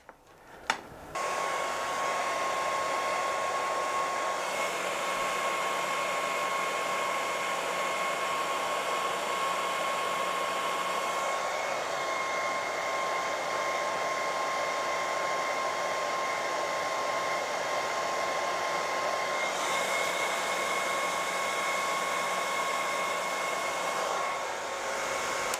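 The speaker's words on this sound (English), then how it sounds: "We've got a hairdryer." A hair dryer blows at a small vertical-axis wind turbine, a steady whooshing roar with a thin whine, running for a long stretch with a brief dip partway through.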